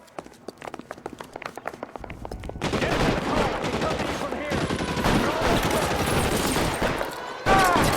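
Gunfire in L.A. Noire: a few sharp isolated shots at first, then a dense, loud stretch of rapid overlapping gunshots lasting several seconds, with a voice briefly audible among them.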